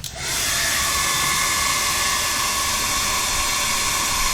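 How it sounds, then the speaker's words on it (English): A hair dryer running on its high setting during a whole-house power station test, a steady loud broadband whoosh that starts abruptly and holds constant throughout, with no talking. "We know the hair dryer was not a problem."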